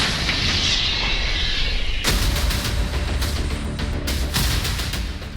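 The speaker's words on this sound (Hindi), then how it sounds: "होवित्जर तोपों की चोट ने यूक्रेन को गहरे जख्म दिए हैं।" Howitzer artillery fire during the fighting in Mariupol in the Russia-Ukraine war: a dense, continuous roar that jumps in loudness midway, with heavy blasts and repeated sharp bursts breaking through.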